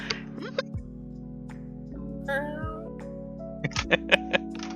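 A synthetic, effects-processed cat meow plays from a soundboard as a few wavering, distorted cries over a steady electronic hum, followed by a run of short sharp bursts.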